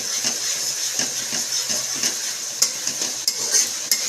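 Onion, ginger and garlic fry in oil in a pan while a utensil stirs them, making a steady sizzle broken by repeated scraping strokes and a few sharp metallic clinks, close and clear.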